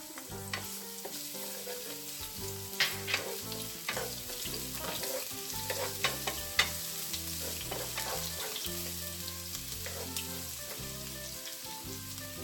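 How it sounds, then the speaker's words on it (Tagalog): Garlic sautéing in cooking oil in a preheated wok, a steady close sizzle with scattered crackles and spatula scrapes that continue throughout. "isote lang natin yung garlic."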